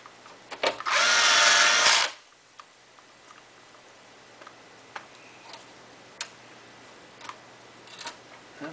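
Power screwdriver briefly whirring as small narrow threaded screws are driven into a PlayStation 3 console during reassembly, a single loud burst of about a second followed by faint clicks and handling ticks in a quiet room.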